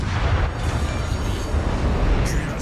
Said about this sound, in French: Votre artillerie, donc bah, quand vous êtes en surface, elle tire toute seule.